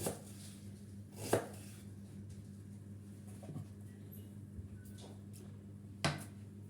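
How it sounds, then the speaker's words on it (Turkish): An onion being cut by hand into thick, finger-wide slices for oven-baked bonito with potatoes: a few sparse, faint knife chops against a board, spaced seconds apart, over quiet kitchen background. "Yani bir parmak genişliğinde kesiyorum soğanları"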